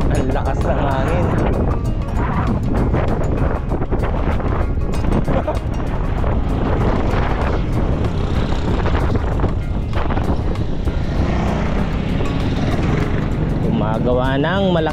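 Powerful wind blasting over a large bridge on the Bangued to Nueva Era road, a continuous heavy rumble of microphone buffeting with people speaking over it.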